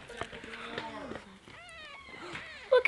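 Baby kittens let out several high, thin meows in quick succession, close and fairly soft, while a person talks quietly over them.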